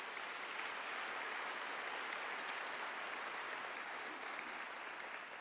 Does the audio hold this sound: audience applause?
yes